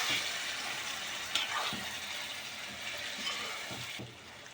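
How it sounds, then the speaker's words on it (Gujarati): Stuffed brinjal curry sizzles and fries steadily in a pan as water is added at the side, a bright hissing spray with a few soft clinks of a utensil, close and continuous without talk. "તો થોડુંક આપણે પાણી એડ કરી દઈશું અંદર"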